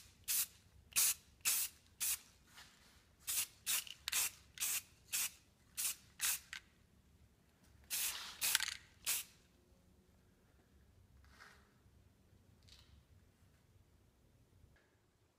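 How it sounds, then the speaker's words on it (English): A prop is sprayed with primer from a can in about a dozen short, sharp hissing bursts in an even rhythm, then a couple of longer bursts, followed by quieter handling sounds, close and without talk. "I'm going to hit it with a coat of primer."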